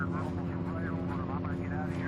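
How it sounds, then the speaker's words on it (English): A helicopter moving in during a sheep capture gives off a steady rotor drone that stays loud and continuous throughout, with voices heard over it. "The chopper moves in."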